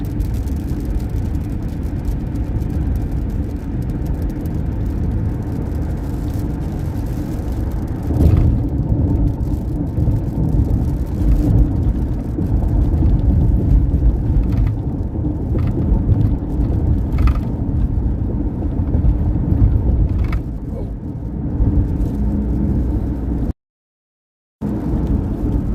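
A car drives along a road with a steady, loud low rumble of engine and tyres that holds for most of the stretch and swells slightly partway through, with brief dropouts near the end and no voices.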